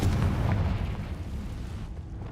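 An explosive Confringo spell blasts in the video game Hogwarts Legacy: a loud, booming burst right at the start that rumbles and fades away over about two seconds.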